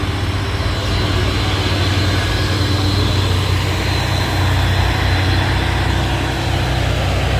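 Truck engine passing on a road during holiday homecoming traffic, a steady loud low rumble with broadband road noise held throughout, no talk.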